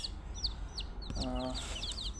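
Young chicks being raised at home chirp repeatedly in quick high peeps, and a single louder cluck-like call sounds in the middle against a faint background.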